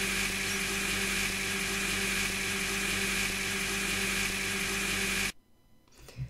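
A Minecraft furniture-mod blender whirs loudly and steadily as it blends melons and apples, a constant motor drone that cuts off abruptly near the end, leaving faint quiet.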